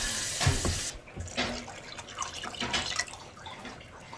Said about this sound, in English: and then I'm going to put some extra water in there.